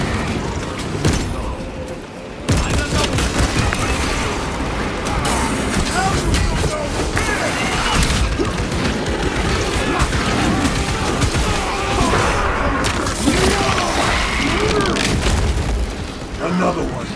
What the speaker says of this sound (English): Frag grenade deployed.